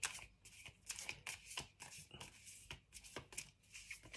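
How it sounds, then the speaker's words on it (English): Oracle cards being shuffled in quick repeated riffles, crisp papery bursts recurring every half second or so, close and fairly quiet with no voices. "Let me shuffle one more time."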